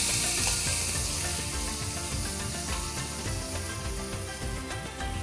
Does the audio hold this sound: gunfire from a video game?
no